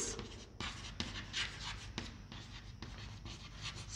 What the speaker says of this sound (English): we can write here